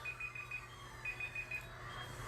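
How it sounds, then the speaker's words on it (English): A workout timer clock beeps in a gym class, two quick runs of short, thin electronic beeps, fairly faint over a low room hum. "the clock goes beep."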